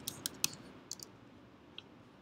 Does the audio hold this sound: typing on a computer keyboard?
yes